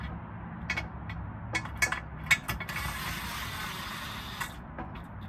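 A ratchet clicks in short bursts while oil pan bolts are fastened on a Dodge 6.4L engine, a close mechanical clatter with a few sharper metallic taps and a steady hiss underneath.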